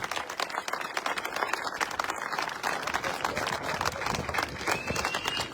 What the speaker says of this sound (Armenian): ծափահարենք եւ ողջունենք։